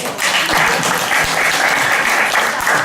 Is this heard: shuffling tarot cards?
no